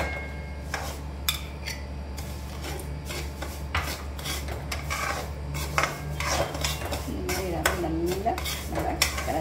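Semolina roasting in ghee is stirred in a pan, with steady scraping and clinks of a spoon against metal, close and moderately quiet over a low background hum.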